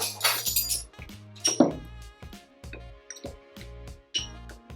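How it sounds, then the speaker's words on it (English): A spoon stirs a cinnamon sugar and hot water mixture in a glass container. Bright clinks and taps repeat in a quick, uneven rhythm, close by and with no talking. "So we'll go ahead and mix these two together."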